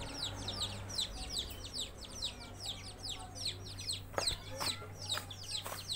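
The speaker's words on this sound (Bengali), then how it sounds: "ওই দেখো ছোট ছোট মুরগির বাচ্চা, ছোট ছোট মুরগির বাচ্চা" Small chicks and hens on a farm give rapid, high cheeping calls in quick overlapping bursts, with a few sharper clucks near the end, fairly close and moderately quiet over a low background hum.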